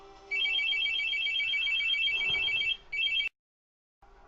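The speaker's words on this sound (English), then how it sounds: "obviously a phone call" A telephone ringing close by: a loud, sustained electronic ringtone trill that breaks off briefly, resumes, then cuts to silence before faint room sound returns.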